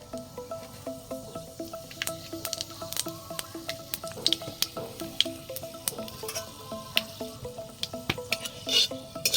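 Panch phoron spices sizzle and pop in hot oil in a wok as chutney is cooked, a soft, constant crackle broken by many sharp little pops and spits, with faint stirring.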